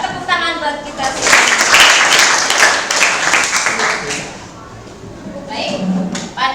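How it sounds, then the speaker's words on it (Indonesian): A classroom group claps together after a cheer, fairly loud and close with uneven bursts, fading partway through before a few more claps, with voices talking over it. "Tepuk tangan buat kita semua."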